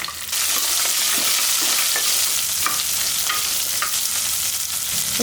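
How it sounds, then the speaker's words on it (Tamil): Shallots and garlic sauté in hot oil in a pan, a loud continuous sizzle close up with occasional stirring scrapes and no talking. "இதெல்லாம் நல்லா வதங்கட்டும்"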